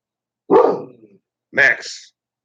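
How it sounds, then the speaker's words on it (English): A German Shepherd mix barks twice, close and loud, each bark a deep, full woof followed by a short pause, with silence around them. "I got a German Shepherd mix."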